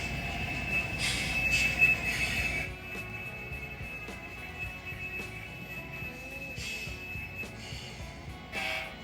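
An HO scale model train rolls along a shelf layout moving a brown boxcar, with a quiet continuous rumble of small wheels, light clicks and a faint squeal, close and with no voices.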